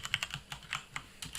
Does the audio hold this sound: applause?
no